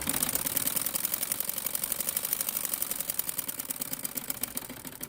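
Lace trim is being stitched onto a chiffon dupatta, a rapid, even mechanical ticking that runs steadily throughout at close range, with no speech.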